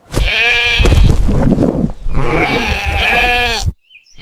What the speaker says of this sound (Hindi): बकरी नीचे रह गई और मदद के लिए पुकारने लगी।